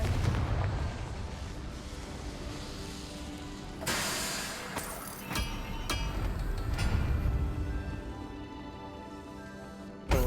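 Explosive Confringo spell cast in Hogwarts Legacy, a loud blast bursting out midway and followed by crackling debris and rumbling game combat sounds over a dense, noisy background.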